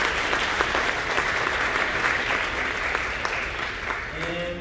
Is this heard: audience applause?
yes